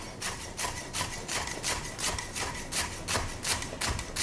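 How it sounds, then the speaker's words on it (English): A dull kitchen knife slices shallots on a cutting board in a steady, quick rhythm of soft rasping cuts, close and moderately loud, with no talk. "If you have a knife with a back heel like this, it makes it so much easier for slicing shallots."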